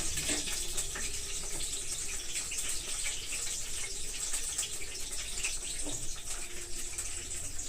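Green chilies are rinsed under running water in a home kitchen while a beetroot dish is prepared, giving a steady, close, continuous hiss of flowing tap water with no voices.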